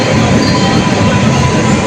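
Puri-Howrah superfast train on platform 2 at Cuttack station, a loud, steady broadband rumble of rolling rail cars that fills the whole short stretch without a break.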